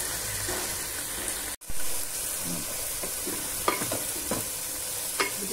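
Field beans (avarekalu) frying in oil for upma, giving a steady bright sizzle with a brief dropout, then occasional spatula scrapes and light stirring knocks over the hiss.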